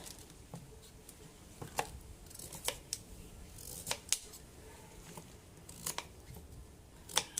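A knife cuts through pumpkin in a series of faint, crisp cuts and taps against a board, irregularly spaced, with no talking.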